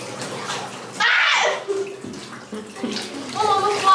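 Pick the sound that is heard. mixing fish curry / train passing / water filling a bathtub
water filling a bathtub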